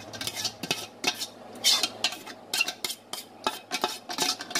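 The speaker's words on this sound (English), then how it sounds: "I've gone ahead to turn this soup into another pot here" Metal utensils scrape and clink against pots as Afang soup with okazi leaves is moved from a big pot into another one, a run of sharp, close clatters and knocks with brief pauses between them.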